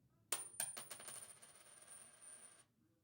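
A quarter dropped onto a hard surface gives a sharp metallic strike, a couple of quick bounces and then a bright ringing tone that fades out over about two seconds, alone and close.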